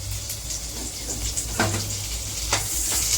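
Cumin, chili and ginger frying in hot oil crackle and sizzle loudly up close, with stirring scrapes and a low background hum throughout.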